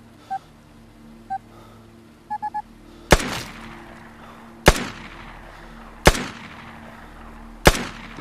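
Pistol shots in the video game Vigor: four sharp, loud single cracks spaced about a second and a half apart, following a few short electronic beeps, over a quiet ambient background.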